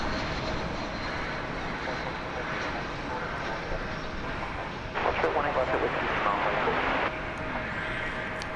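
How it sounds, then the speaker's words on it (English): American Airlines Airbus A321 taking off at DFW Airport, a broad steady jet roar at moderate distance with a louder rough surge midway, heard over a constant background rumble. "Cancun-bound flight about to lift off."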